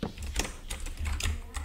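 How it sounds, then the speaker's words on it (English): Quick bursts of keystrokes on a computer keyboard during a Minecraft game session, several close, clattering taps in uneven clusters with low background rumble. "That was just me typing on my..."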